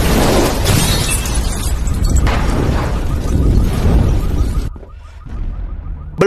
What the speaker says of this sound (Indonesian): telah terjadi ledakan bom di depan kantor